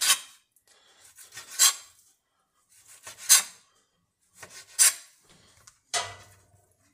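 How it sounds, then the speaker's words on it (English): A knife slices a striped bass fillet into chunks on a cutting board, four short scraping cuts spaced about a second and a half apart, close and clear with quiet pauses between. "And we're just going to cut all of this up."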